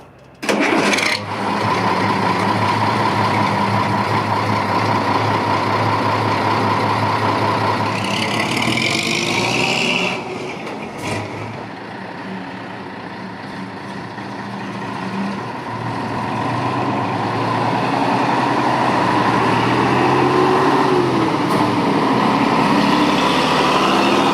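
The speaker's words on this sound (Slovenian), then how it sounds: "Zdaj pa je že skrajni čas, da prisluhnemo motorju." A vintage FIAT 619 N1 truck engine cranks, starts and runs with a loud, deep, steady diesel rumble close by, briefly rising in revs before settling into an idle and building again.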